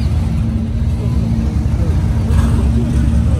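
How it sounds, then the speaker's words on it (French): Lamborghini Miura SP engine idling low and rumbling steadily nearby while parking, a constant low drone with a slight rise near the end, with people talking over it. "Lamborghini Mura, il se gare."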